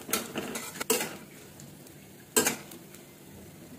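Peanuts and chana dal are stirred while roasting in a pan, a spoon scraping and clinking against the metal in two sharp, separate knocks with quieter rattling between them.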